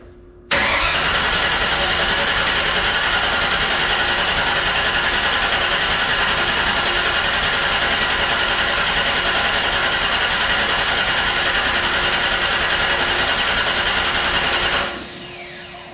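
A Cobra replica car's engine cranks on its first start attempt, the starter whirring loudly and evenly for about fourteen seconds before cutting off, with no ignition catching.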